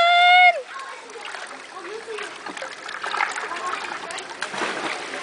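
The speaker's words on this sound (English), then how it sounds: "Swim, swim, swim." A small child splashes in water while swimming toward a parent, with soft, irregular splashes and sloshing close by, following a brief high-pitched squeal or whistle at the start.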